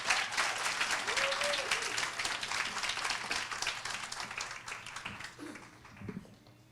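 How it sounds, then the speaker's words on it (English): Audience applause for a speaker taking the stage, a dense wash of clapping from a crowd that swells at once and then slowly thins and fades toward the end. "A big round of applause for Kavin."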